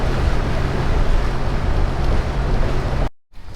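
Steady, loud rushing air noise fills the cabin of a moving 1966 Ford station wagon for about three seconds, then cuts off abruptly into near silence.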